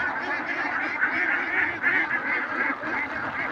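A flock of ducks quacks and honks continuously, a dense overlapping chorus of many birds nearby with no pause.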